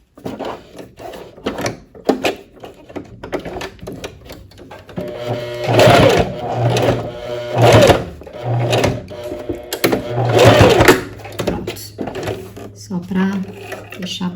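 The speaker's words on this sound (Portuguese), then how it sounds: "Se quiser, você pode reforçar a costura inicial." A sewing machine reinforces the initial seam of a tube dress, giving several short bursts of stitching chatter between pauses, with a voice talking throughout.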